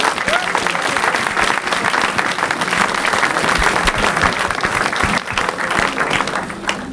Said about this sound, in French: On peut acclamer Jésus-Christ de Nazareth.